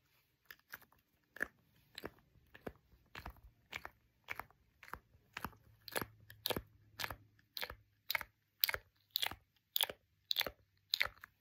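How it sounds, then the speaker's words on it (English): Suction cup handled up close: a steady series of about twenty soft, crisp popping and squelching clicks at a regular pace, quiet and isolated with no talking. "It's a little suction cup."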